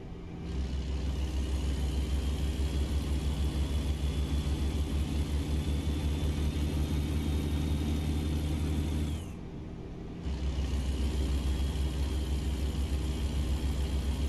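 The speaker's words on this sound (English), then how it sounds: "I really love these nice long nose Kenworths, and that Jake really sounds freaking awesome." Deep, steady rumble of a long-nose Kenworth truck engine in American Truck Simulator, droning without pause apart from a brief dip near the end, when the tone shifts and then picks back up.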